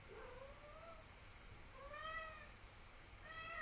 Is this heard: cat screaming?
yes